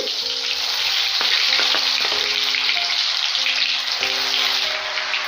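Ginger garlic paste, three tablespoons, frying in leftover chicken oil over a low flame for chicken pickle, giving a steady loud sizzle with occasional stirring scrapes and clicks of a spoon.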